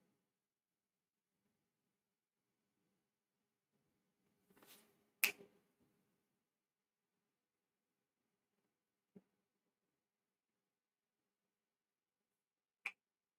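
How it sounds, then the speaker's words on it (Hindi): Finger snaps in an otherwise near-silent room: a cluster of sharp clicks, then two isolated, fainter snaps spaced several seconds apart. "चुटकी की आवाज आ रही है बढ़िया से"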